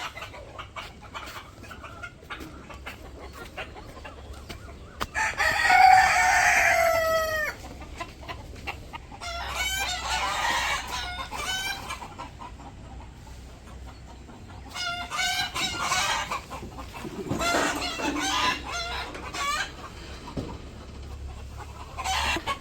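Chickens on a small village poultry farm on a hot day, with a fan running: a loud nearby rooster crow, then repeated clucking and squawking over a steady low hum.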